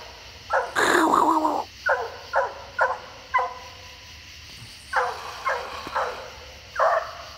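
A dog makes a series of short, separate barks and growly yips, some rough and some whining, with pauses between them.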